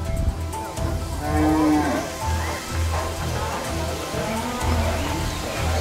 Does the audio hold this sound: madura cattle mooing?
yes